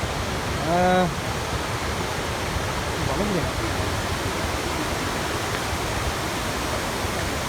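A Sri Lankan waterfall roars as a constant, dense wash of falling water, loud and unbroken from start to end, while a voice speaks briefly near the beginning.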